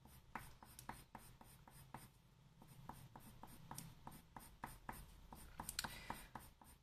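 Colored pencils shade over paper to blend orange with other colors, a close, quiet series of rhythmic scratchy strokes repeating roughly twice per second, with no talking.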